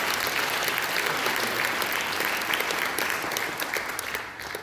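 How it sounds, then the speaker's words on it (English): A church congregation applauds steadily, many hands clapping in a dense, continuous patter that fades slightly toward the end. "Give God a hand clap for everything he's done in your life."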